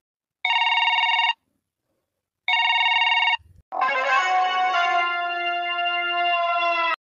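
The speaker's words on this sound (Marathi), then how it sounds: "अजून एक वेळ जाऊ द्या ना, बेल जाऊ द्या ना पूर्ण." A telephone rings in a Marathi comedy sketch: two bright, even bursts of ringing separated by a pause, then a longer, louder tonal ringtone that carries to the end, with no talking.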